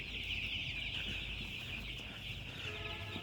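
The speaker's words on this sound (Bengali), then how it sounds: "মুরগিগুলো চারিদিকে ছড়িয়ে ছিটিয়ে আছে" A shed full of young broiler chickens gives off a steady, dense chorus of high peeping and soft clucking, with the whole flock calling at once from close by. No voices are heard.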